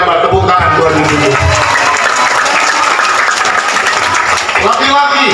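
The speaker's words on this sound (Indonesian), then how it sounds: "tepuk tangan buat ibu-ibu." A crowd at a large Islamic religious gathering claps loudly and densely, with voices and cheers mixed into the steady applause.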